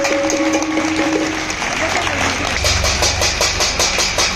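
An audience at a Hindu puja gathering claps along, the sound becoming a steady rhythmic patter in the second half, mixed with a metal plate being beaten and continuous crowd and hall noise beneath a speaking voice.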